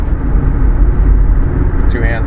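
Car engine accelerating as the vehicle makes a left turn through an intersection, a steady, close drone heard from inside the car, with a voice talking over it.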